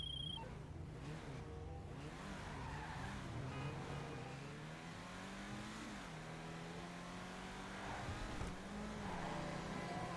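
Ubermacht Rhinehart car in GTA 5 driving out, a steady engine drone with rising and falling revs and brief tire squeals, loud and continuous throughout with no talking.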